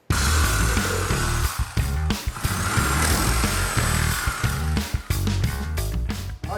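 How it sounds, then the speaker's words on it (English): A saw cuts through old plumbing lines on a wall during a shop demolition, with a loud, steady grinding buzz that stops and restarts in short breaks over several seconds. "Let's grab the saw, and I'm just gonna cut all these lines."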